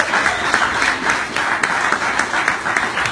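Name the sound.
audience applause for Chris Cote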